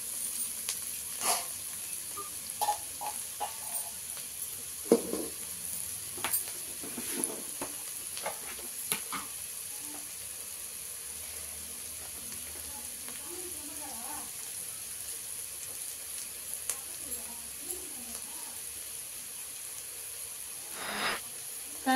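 Spices such as chili powder and coriander powder sizzle and fry in a pan, a steady soft hiss with occasional stirring clicks and scrapes throughout.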